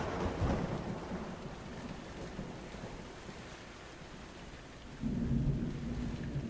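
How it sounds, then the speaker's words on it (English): Thunder rolls through a rainstorm as a deep, sustained rumble over steady rain, then swells into a louder, closer peal near the end, with no voices. "A peal of thunder loud enough to make Ash and I jump"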